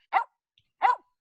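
A dog gives two separate barks about half a second apart, each short, loud and close, with quiet in between.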